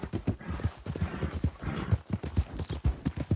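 Horse hooves clip-clop in a quick, even rhythm in Red Dead Redemption 2, close and clear, with soft thuds running throughout the whole stretch.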